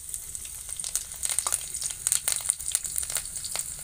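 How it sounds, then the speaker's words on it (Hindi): Chopped green chilies fry in hot mustard oil in a kadhai, a close, continuous crackling sizzle with dense spitting pops throughout. "कढ़ाई में सरसों का तेल डाल देते हैं। तेल हमारा गरम हो गया है। अब कटा हुआ हम मरचा नाय देते हैं"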